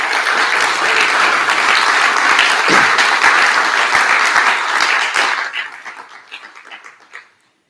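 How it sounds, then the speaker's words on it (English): At the PGDay Lowlands 2025 PostgreSQL conference, the audience applauds the organizing team in loud, dense clapping that holds steady for about five seconds, then thins to scattered claps and fades out. "And please give them a good round of applause."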